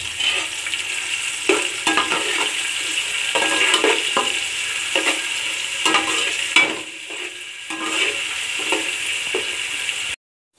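Onions frying in hot oil, a dense, bright sizzle running steadily with periodic stirring scrapes, close and fairly loud, before cutting off abruptly at the end.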